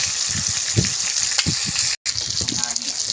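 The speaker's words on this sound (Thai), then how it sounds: "แห้งแล้วน้ำมันมันจะทอดตัวของมันเองครับ" Chicken necks frying in their own rendered fat with no added oil, giving a continuous crackling sizzle with bubbling pops, loud and close, with some talk mixed in.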